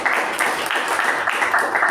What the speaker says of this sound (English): let's give a round of applause to both our evaluator and our speaker